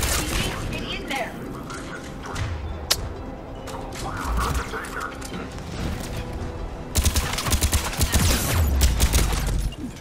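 At a Cerberus checkpoint in Mass Effect 3, a sustained firefight rattles with overlapping automatic gunfire and sharp cracks, growing louder and denser toward the end, with talk heard beneath the shooting.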